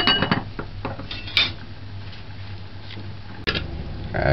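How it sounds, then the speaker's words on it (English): A spoon clinks and scrapes against a pot while river shrimp soup is gently stirred, several sharp metallic taps at the start and again near the end, with quiet gaps between. "Just gonna stir it in gently"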